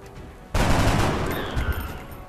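A sudden loud burst of gunfire in the game XCOM: Enemy Unknown erupts after a brief quiet moment, its rattling echo slowly fading out.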